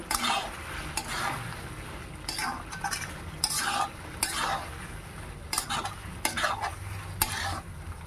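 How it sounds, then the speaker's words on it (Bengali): Goat lungs stir-fried in spiced masala in a pan for a curry, with a ladle scraping and clinking against the metal in repeated strokes over a continuous sizzle, close and busy with no talk. "আমি খাসির ফুসফুসগুলো দিয়ে দেব। এবার খুব ভালো করে কষে নেব।"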